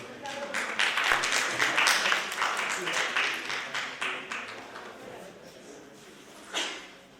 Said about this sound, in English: Huge round of applause for Shubhankar Banerjee from Seven Sense Com